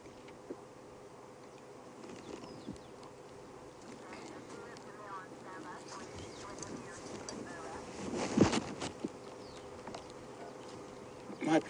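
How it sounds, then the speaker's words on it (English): Stable flies buzzing around a lioness outdoors in cool, windy weather, a faint persistent drone under wind noise with a brief louder burst near the end. "there's a horde of little biting flies called stable flies buzzing around her."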